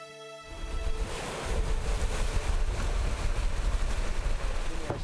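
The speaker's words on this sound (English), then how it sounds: "The wind blows constantly over Lake Borollos." Wind blowing constantly over Lake Borollos, a loud rumbling gusty rush buffeting the microphone, rising after a quiet start and staying strong, with faint water wash beneath.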